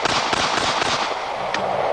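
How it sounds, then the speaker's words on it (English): A Smith & Wesson .45 ACP pistol fires amid a dense clatter of sharp, overlapping reports, with a distinct crack near the end, loud and close with no talk. "let's take a look at our 45 ACP in recoil."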